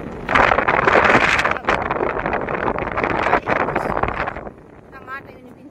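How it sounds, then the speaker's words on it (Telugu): Strong wind buffets the microphone in an open farm field during a crop harvest, a loud roaring rumble that rises and falls, with a person talking under it before it eases toward the end. "గాలి చాలా ఉంది"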